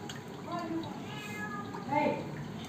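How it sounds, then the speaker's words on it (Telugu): A cat, drawn by the smell of fish, lets out a few short meows behind the scene, moderately faint against a watery background hiss. "చేపలు కదా, వాసనకి పిల్లి వచ్చేసింది వెనకాల అరుచుకుంటా ఉంది"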